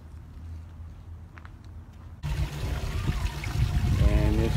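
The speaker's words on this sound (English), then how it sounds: "And this is a water fountain at the mission." Water fountain at a California mission in Solvang: a quiet outdoor lull, then a steady splashing, pouring stream rises suddenly and continues fairly close, with faint background noise and no clear talk.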